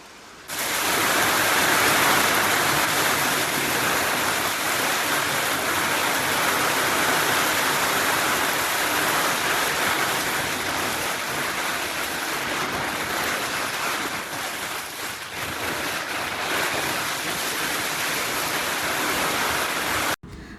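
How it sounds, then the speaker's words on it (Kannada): A loud, continuous downpour roars without pause, dense and even throughout, with no voices. "ಭಾರಿ ಮಳೆ"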